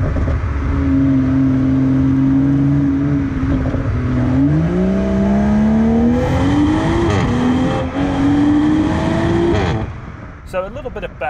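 A 2020 BMW M340i xDrive sedan accelerates on the road, its engine note climbing steadily through the gears with a strong, continuous drone up close, then easing off near the end.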